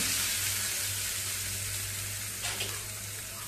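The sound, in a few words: hot tempering poured onto coconut chutney, sizzling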